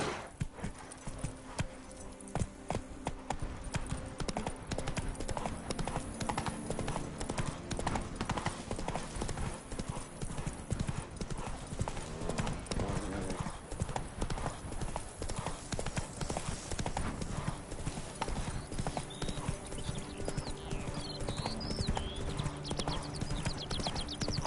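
Hooves of the horse Roach galloping in The Witcher 3, a fast, continuous, loud drumming of hoofbeats with faint voices and game sounds mixed in.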